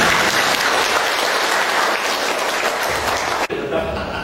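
Applause from a church audience, a steady wash of many hands clapping that stays dense and even, then thins sharply near the end before picking up again faintly.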